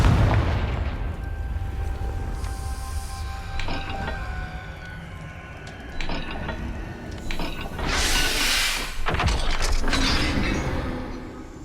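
A Confringo spell blast goes off in the Hogwarts Legacy video game, heard as booming explosive bursts and crackling impacts over a loud, rumbling game background, with a large swelling blast near the end.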